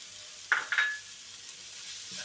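Boiled mutton tipped into a hot pan of spiced mixture, giving two quick bursts of sizzle and a clatter, then a low steady frying hiss.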